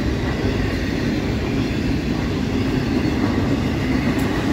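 A short Norfolk Southern intermodal freight train led by an AC44C6M locomotive rumbles steadily past close by, a continuous loud low roar of rolling cars with no talking.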